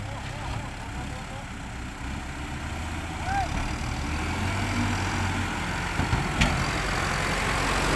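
Tractor engine straining as it pulls a stuck dump truck out of mud, a steady low rumble running throughout with a slight swell partway, while people talk over it.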